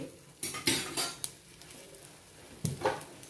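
Metal spoon stirring chili powder, turmeric, salt and garlic cloves in a pan for spiced puffed rice, a few sharp scraping clinks in quick bursts, then a pause and one more scrape.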